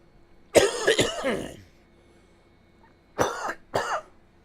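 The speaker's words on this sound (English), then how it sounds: "I didn't mean to cough right into the mic" A loud, close cough bursts out in a quick cluster, then after a pause two more sharp coughs follow.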